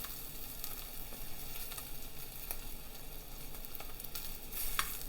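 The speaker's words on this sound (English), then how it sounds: "See how that's searing right there?" Hot dogs searing in a pan, a soft steady sizzle with faint scattered pops and crackles, close and continuous without speech.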